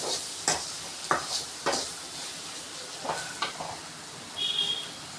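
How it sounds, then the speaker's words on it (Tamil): A ladle stirs brinjal curry in a pan while it sautés, making repeated close scraping strokes over a constant soft sizzle. "இப்போது கரண்டி வச்சு நல்லா வதக்கிக்கோங்க."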